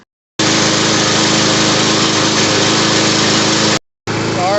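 A Troy-Bilt TB130 lawn mower engine (model 11A-B2MR766) runs loud and steady after a carburetor repair, its droning buzz cutting out briefly before resuming.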